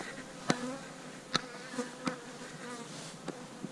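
Bees buzz faintly around styrofoam beehives in a bee yard near canola fields, a soft steady insect hum with a few brief, sharper clicks and taps spread through it.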